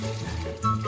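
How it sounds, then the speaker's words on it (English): Water in a home cooking pot at a boil gives a steady close bubbling and simmering wash with a low hum beneath, briefly rising in loudness near the end. "Now our pot is boiling."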